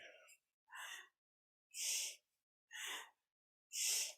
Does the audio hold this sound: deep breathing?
yes